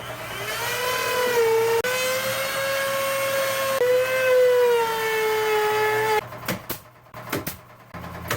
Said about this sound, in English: I'm gonna go ahead and use the small router right there